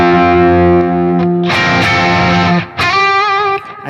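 Heavily distorted electric guitar played through a Line 6 Helix amp model running Helix 3.8 tones, loud sustained chords that cut off briefly and ring again, without any talking.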